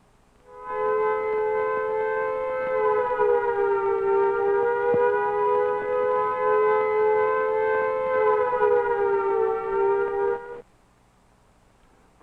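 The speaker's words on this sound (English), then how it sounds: "in addition to the warning given by sirens or other means" A civil defense warning siren wails steadily and loudly for about ten seconds, its pitch swelling and sagging slightly before it cuts off abruptly.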